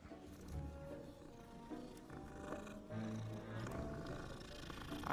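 A cat being petted in Hogwarts Legacy purrs in a low steady rumble, partly buried under in-game background music.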